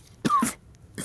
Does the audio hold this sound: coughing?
yes